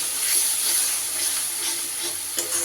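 Water added to frying spice paste for a brinjal dish sets off a loud, continuous close-up hiss of sizzling steam that holds steady throughout.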